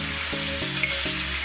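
An egg hits hot oil in a pan of Maggi fried noodles with vegetables, giving a loud, steady, close sizzle of frying without talk.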